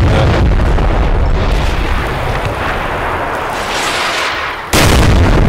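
Artillery in a US Marines combat video game booms in a loud, continuous, rumbling barrage, dips slightly in the middle, then slams back in with a sudden heavy blast near the end.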